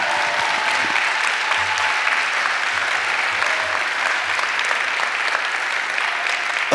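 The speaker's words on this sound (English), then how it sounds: "Can someone please clap for hope?" Steady, sustained audience applause fills a presidential inauguration ceremony for a reverend, dense and even throughout with no speech rising above it.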